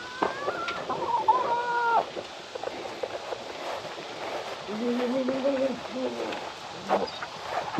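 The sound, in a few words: chickens clucking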